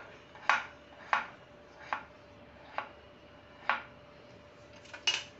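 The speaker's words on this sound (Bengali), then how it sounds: "আমি পেঁপেগুলিকে পাতলা পাতলা করে কেটে নেব" A knife slices thin pieces of papaya on a cutting board, six sharp, clear chops at an uneven pace, close up and alone against quiet background hiss.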